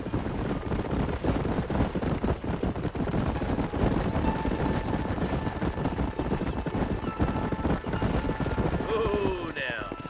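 Horse hooves clip-clop steadily through a Red Dead Redemption ride, close and continuous for the whole stretch under a busy game soundtrack, with speech likely mixed in.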